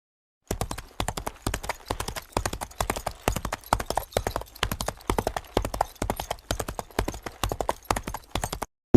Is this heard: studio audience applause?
no